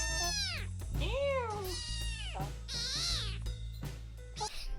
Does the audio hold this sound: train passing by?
no